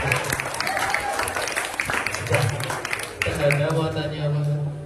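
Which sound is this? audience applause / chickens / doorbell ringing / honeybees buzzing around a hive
audience applause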